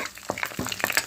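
Mustard seeds, cumin and dried chillies frying in oil for a tempering, a close crackling sizzle with quick popping bursts.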